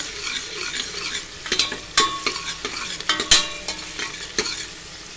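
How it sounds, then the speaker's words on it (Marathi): Mutton and onion frying in hot oil for a spicy village-style mutton curry, a steady close sizzle broken by sharp scraping stirs of a spatula against the pan every second or so, with no talking. "आपण मटण फोडणीला टाकतो।"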